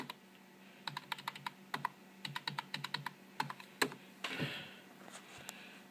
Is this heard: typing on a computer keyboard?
yes